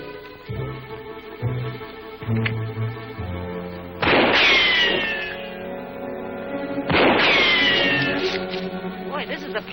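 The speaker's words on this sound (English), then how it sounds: "What's Blackie shooting at?" Gunfire from a 1941 adventure serial, two loud bursts of shots with ringing echoes, the first near the middle and the second near the end, over an orchestral music bed.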